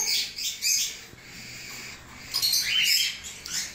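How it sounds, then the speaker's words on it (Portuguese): A mongrel canary, known as salsa, kept as a caged pair, gives high thin chirps and short twittering phrases in a few bursts with quiet gaps, close but modest in volume, no talk over it. "salsa é conhecido como canário vira-lata"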